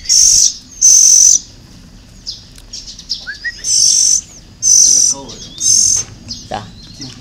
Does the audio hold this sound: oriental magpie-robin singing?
yes